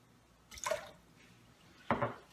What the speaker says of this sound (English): So I'm just gonna pour some of that out.